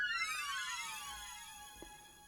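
A bright, high-pitched synth tone with many stacked harmonics glides slowly downward, sustained and fairly loud, with no voices.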